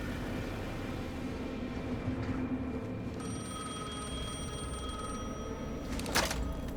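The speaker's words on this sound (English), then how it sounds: "The phone again." A telephone rings in the video game Alan Wake 2, starting partway in as a steady electronic tone over a low ambient game background, with a brief louder burst near the end.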